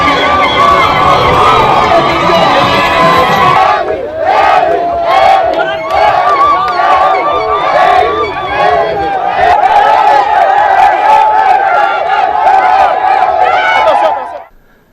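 Large crowd of party militants cheering and shouting in celebration at a political party congress, a loud, dense roar of voices with battle-cry yells sustained throughout before cutting off at the end.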